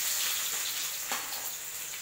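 Onions and chana dal fry in hot gingelly oil for wheat rava upma, giving a bright, steady sizzling hiss with small crackles close to the pan and no voices.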